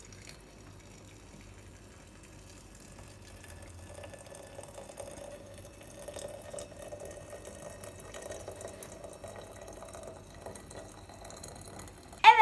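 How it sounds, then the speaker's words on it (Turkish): Hot water pours into a cup for a spiced winter tea with cinnamon, a soft, steady trickling fill that grows slightly fuller midway, quiet and close, ending in a brief sharp clink. "Şimdi sıcak su geliyor."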